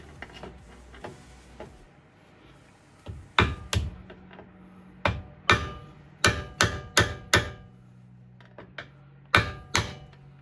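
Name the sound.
hammering a punch to notch a CV axle nut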